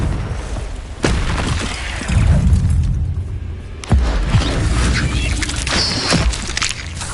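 Confringo fire spell explosions in the video game Hogwarts Legacy: several sharp booming blasts, one roughly each second or two, each followed by a rumbling tail, loud and close, mixed with other game effects and no talking.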